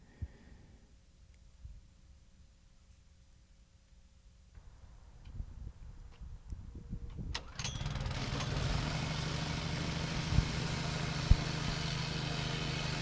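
Honda engine on a Harbor Freight plate compactor being pulled to start, a few quiet tugs and clatters, then it fires and settles into a loud, steady close running drone with occasional knocks.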